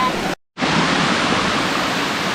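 Steady roar of a waterfall on a creek, a dense continuous rush of water that cuts out for a moment near the start and then resumes at full, even loudness with no talk.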